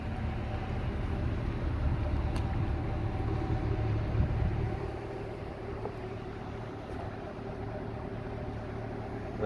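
A 2014 Chevrolet Camaro SS V8 idling outdoors in the rain, a low steady rumble that is louder for the first few seconds and then settles to a softer, even idle under rain hiss.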